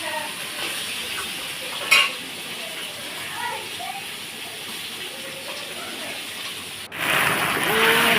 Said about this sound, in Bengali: এই যে মাছের ঝোলটা বসিয়ে দিলাম